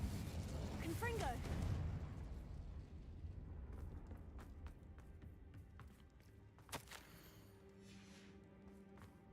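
Confringo fire spell cast in Hogwarts Legacy, a loud burst that blooms and rumbles early on, then trails into a softer rumble with a few clicks and one sharp crack later, over a faint music bed.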